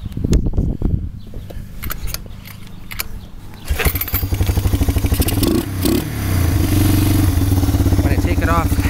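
A small engine with a carburetor issue sputters and struggles off half choke, its uneven firing rising and dipping as it threatens to quit, with clattering and a person talking nearby.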